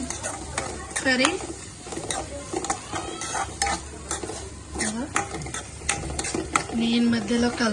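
Chicken curry frying in a pan is stirred continuously: rhythmic scraping and clattering strokes over a constant hiss and sizzle, loud and close throughout.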